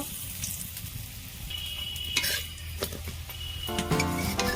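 Cabbage masala paratha frying in a pan gives a steady close sizzle throughout, with scattered scrapes and clinks of a utensil against the pan.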